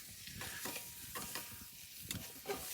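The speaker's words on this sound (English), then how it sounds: "get that butter melting" Butter sizzling and crackling in a brand-new frying pan over a hot open fire while steak is cooked, a steady close hiss broken by scraping stirs and a sharp clack at the end.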